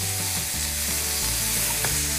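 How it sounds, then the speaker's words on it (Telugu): Fresh mint and coriander leaves frying in a pan as they cook down, giving a close, bright, continuous sizzle with a little stirring, while background music plays underneath. "పుదీనా, కొత్తిమీర పచ్చి వాసన పోయే వరకు జస్ట్ ఫ్రై చేసుకోవాలంటే"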